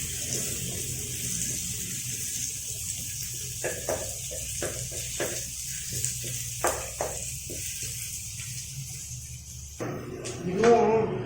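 Curry leaves crackle and sizzle in hot oil in a home kitchen, a steady hiss broken by sharp pops and spits, with a louder clatter of stirring near the end.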